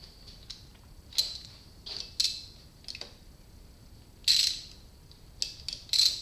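Wrench loosening engine cover bolts on a Suzuki GS550 motorcycle engine during a cafe racer teardown, with sharp intermittent ratchet clicks and creaks in short separate bursts, close and fairly quiet.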